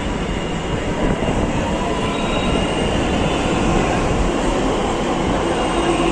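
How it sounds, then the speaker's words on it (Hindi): A Delhi Metro train arriving at a station rumbles loudly and steadily, with rolling wheel noise and a faint high squeal, filling the whole stretch without voices. "मेट्रो भी आ रही है, देखिए पीछे से दिखा दे रहे हैं आप लोग को।"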